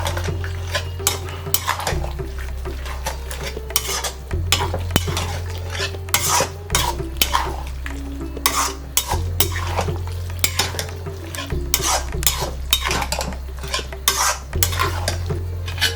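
A spoon repeatedly scrapes and clinks against a pot while stirring sambar with sambar powder, rhythmic metallic strokes over a soft bubbling sizzle, close by, no talk.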